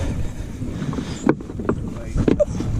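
A small boat is pushed off a lakeshore with a paddle during a bluegill fishing trip, a scraping, rustling effort against steady wind noise, with two sharper knocks of the paddle.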